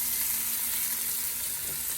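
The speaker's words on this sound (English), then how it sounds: "While this is sauteing nicely," Food sautéing in a pan outdoors in Guyana, a steady close sizzle and crackle of frying that runs evenly without pause.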